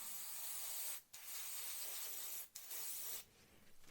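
An airbrush sprays slightly thick Tamiya white paint onto a Revell 1/32 He111 model kit at raised pressure: steady close hiss broken by two brief pauses, then tapering off.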